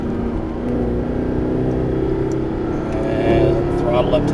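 A Mercedes SLS AMG on a racetrack gives a loud, continuous engine roar under throttle, rising slightly toward the end, with a voice talking over it.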